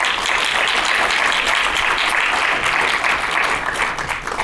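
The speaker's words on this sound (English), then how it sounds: "let's give, please, a warm round of applause for Johannes." A room full of people gives a warm round of applause for a speaker at a presentation, dense and loud clapping that continues steadily before tapering slightly at the end.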